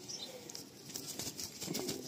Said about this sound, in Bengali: প্রচণ্ড ছটফটে পায়রা